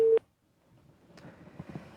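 A telephone busy tone sounds briefly at the start as a call-in line to an Indonesian Islamic radio program disconnects, then gives way to low room noise and murmuring.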